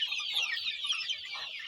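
Native chicks crowd together pecking at cabbage leaves, a dense chorus of high, rapid cheeping and soft clucks close by, continuous for the whole moment.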